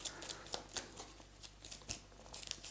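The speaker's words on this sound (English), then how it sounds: "Now I shuffle my discard pile" A discard pile of game cards is shuffled on a table during a play-through of the board game Heat, giving soft, quick riffling and tapping bursts at close range with no talking.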